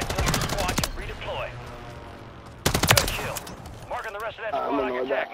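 Two loud bursts of rapid automatic gunfire in Warzone, each a fast rattle of shots, with someone talking between and after them.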